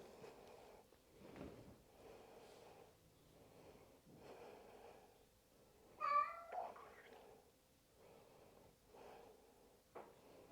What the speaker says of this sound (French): si vous entendez mon chat miauler, c'est normal